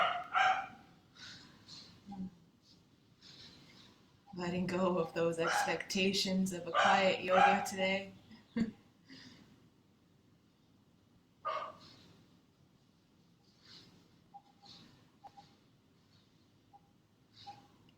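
Neighbourhood dogs barking in the morning, a few faint, distant barks scattered through a quiet scene, heard partly alongside a calm voice speaking.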